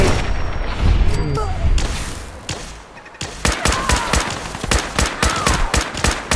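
Enemy Gunners open fire in the Fallout 4 video game: after a muffled start, rapid volleys of sharp, loud gunshots crack in quick irregular bursts, dense and close.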